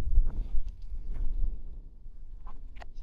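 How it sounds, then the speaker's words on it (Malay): Gusty wind buffets the microphone on a hilltop summit at Bukit Berekeh, a steady low rumble with rising and falling surges and a few faint taps, with no talking. "angin kuat"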